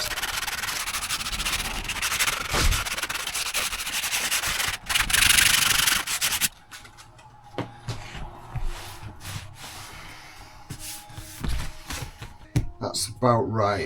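Abrasive scuffing on the surface of an inflatable Intex Challenger kayak before a skeg mount is glued on: rapid rubbing strokes for about six seconds, then quieter handling and faint rustles, with a person talking throughout.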